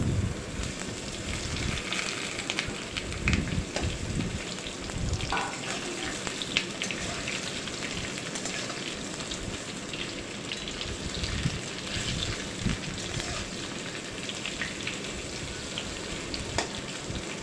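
Mango pieces for a homemade mango pickle sizzle in hot oil with panch phoron, a continuous close hiss like steady rain with scattered crackles, no talking.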